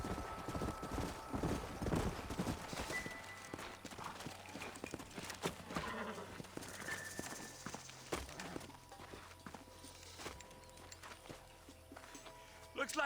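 Horses' hooves clip-clop at a walk in the video game Red Dead Redemption, steady rhythmic hoofbeats with a horse's whinny, mixed with game ambience and speech from the characters.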